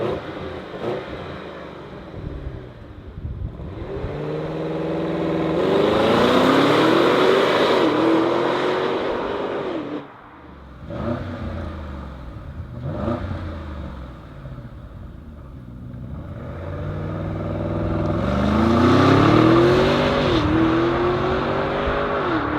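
A 2021 Audi SQ8 with a 4-liter twin-turbo V8 revs repeatedly, each loud rising roar climbing in pitch then dropping back, in two long bursts and a few shorter blips, close and with no talk.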